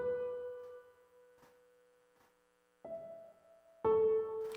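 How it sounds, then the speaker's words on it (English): Light piano entering a song intro alongside textured vocal layers, with sustained soft tones and a brighter chord stepping in near the end, steady and fairly quiet. "we just have a piano coming in as well"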